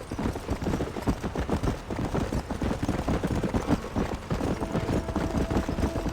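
Horse hooves clip-clop in a quick steady rhythm from a galloping horse in the Red Dead Redemption video game, loud and close, running continuously without speech.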